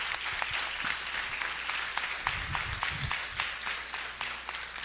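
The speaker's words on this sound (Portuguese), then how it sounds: "Então, uma salva de palmas." Audience applause at a university certification ceremony, a moderate room of people clapping steadily with individual claps distinct, fairly quiet and continuous, with a brief low murmur partway through.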